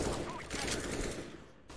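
Rapid bursts of gunfire from a first-person shooter game, dense and continuous throughout, with a faint voice partly underneath.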